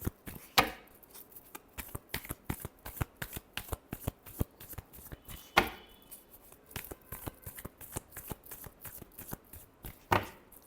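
Tarot cards are shuffled by hand in quick, crisp riffles and slaps, a steady run of sharp close taps with a few louder bridge-like bursts, no voices.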